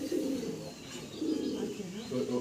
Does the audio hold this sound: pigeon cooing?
yes